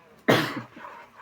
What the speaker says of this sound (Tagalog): May ubo na.